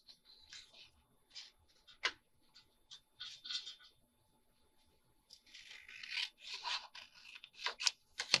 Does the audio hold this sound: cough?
no